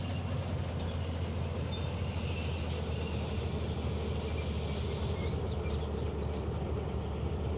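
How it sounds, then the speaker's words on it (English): A freight train in the Derail Valley railway game slowing down on its brakes, a steady loud rolling rumble with faint wheel squeal running throughout, no voices. "We'll just use this back brake to get us slowed down."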